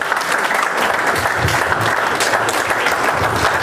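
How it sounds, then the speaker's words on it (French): Sustained applause and cheering from a crowd at an independence day celebration for the Democratic Republic of Congo held in Montreal, dense, continuous clapping filling the whole stretch with no talk over it. "Encore des acclamations."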